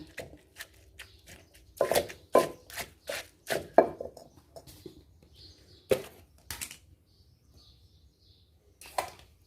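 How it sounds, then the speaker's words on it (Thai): Pestle pounding tomatoes in a mortar while making Thai fresh shrimp salad with dried chilies: a run of sharp, close thuds, then sparser single knocks with pauses between. "เดี๋ยวจะตำให้น้ำมะเขือเทศออกนิดนึงก่อน"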